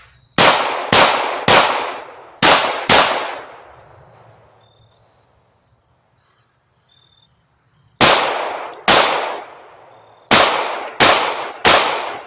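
Five-shot snub-nosed revolver fire: a rapid string of five sharp, loud reports near the mic, a few seconds of quiet, then two more quick strings of shots, each crack ringing out briefly.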